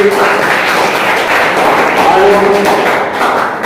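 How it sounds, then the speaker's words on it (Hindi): Audience clapping for a police officer at a gathering in Pratapgarh, India, a steady dense patter of hands held at a constant level throughout. "पुलिस ऑफिसर के लिए जबरदस्त ताली होनी चाहिए"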